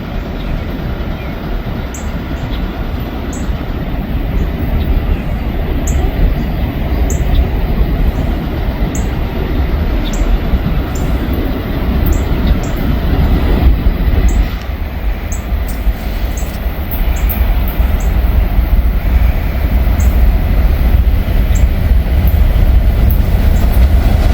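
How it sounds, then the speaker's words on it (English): A coal train rolls past close by, a continuous loud rumble of wagons with faint rhythmic wheel clatter and occasional high squeal lasting the whole time, with no voices. "it looks like a coal train"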